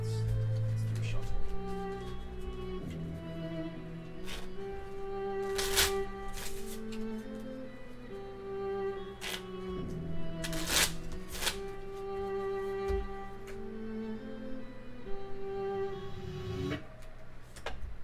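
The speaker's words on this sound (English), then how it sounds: "Let's do a shuffle." A deck of tarot cards being riffled and shuffled up close, in repeated papery flutters and snaps, with crisp taps between bursts and someone talking in the background.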